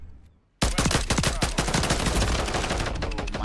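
Rapid automatic gunfire in Call of Duty MWIII bursts in abruptly after a quiet moment, a loud, dense stream of close shots that carries on for several seconds.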